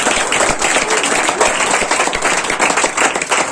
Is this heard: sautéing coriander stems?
no